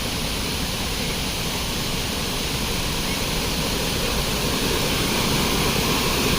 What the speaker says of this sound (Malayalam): വെള്ളച്ചാട്ടത്തിൻ്റെ അടുത്തെത്തിയിരിക്കുകയാണ്.